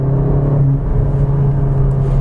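A 2019 Cupra Ateca 300PS SUV engine burbles steadily as it accelerates in manual mode with paddle shifts, a low, continuous rumble heard from inside the car.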